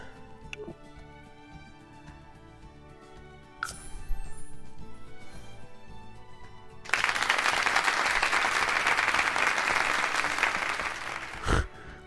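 Synthetic crowd clapping in The Sims 4 swells in midway over quiet game music and continues steadily, moderately loud.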